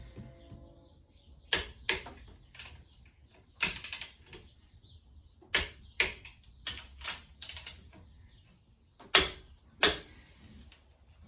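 Main bearing cap bolts on a Ford 300 inline-six being torqued during crankshaft installation give sharp clicks and ratchet bursts, spaced irregularly and fairly close, with quiet gaps between.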